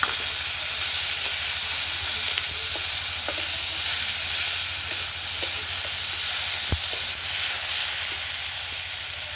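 A fried fish head drops into spice paste with dried red chili in a hot pan, setting off a loud, continuous sizzle with a few scattered clinks of stirring over the steady hiss.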